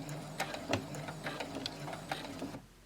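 A sewing machine stitches forward in a short, steady burst of rapid mechanical whirring and needle clatter, close and fairly loud, then stops near the end.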